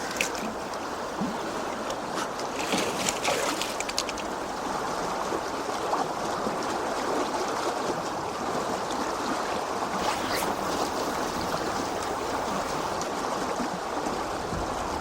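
A river flowing steadily at a salmon fishing spot in Iceland, a continuous broad rushing wash of water with no pauses, close and fairly loud throughout.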